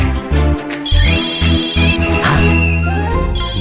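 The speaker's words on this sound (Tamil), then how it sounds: "என்ன ஃபோன் அடிக்குதே?" A phone rings in a Tamil TV drama scene, a loud looping electronic ringtone melody with layered tones that plays continuously, close and alone without speech.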